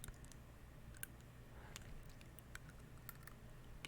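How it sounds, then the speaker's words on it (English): Faint, irregular clicking from a tongue piercing tapping against teeth comes in light, scattered ticks close to the mic over a steady low background hum. "That's actually my tongue piercing. That's what that clicking is."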